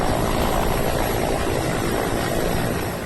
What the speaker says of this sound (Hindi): एक एक कर रस्सी के सहारे हेलीकॉप्टर से रेस्क्यू किया जा रहा है।